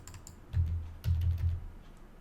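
Keys on a computer keyboard are pressed close by, a few light taps followed by clustered bursts of heavier, thudding keystrokes, with no talking.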